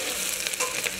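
Finely chopped onion frying in hot oil with cardamom, cloves and black cardamom for mutton curry makes a dense, continuous close sizzle through one brief moment, with no talking.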